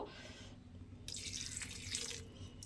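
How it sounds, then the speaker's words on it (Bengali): A small splash of water poured into a pan of drumstick (sajna) vegetables while cooking, a steady running trickle that swells into a brighter, louder pour midway and continues close up without talk. "আর একটু সামান্য অল্প একটু জল আমি এর মধ্যে দেব"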